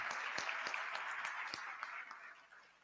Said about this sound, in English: Oh, the applause is too feeble.